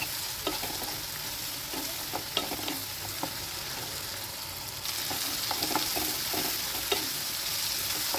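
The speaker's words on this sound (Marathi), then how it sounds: "आता सर्व एकत्रित करून छान असं परतून घ्यायचं आहे" Ground chana dal and green chili mixture fries in a pan, a steady sizzle under scattered scraping stirs, growing louder midway, with no talking.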